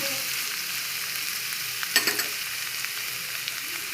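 Ingredients for vegetable fried rice fry in oil over a low flame, a steady hissing sizzle with a brief cluster of spatters and scrapes in the middle, close with no voices.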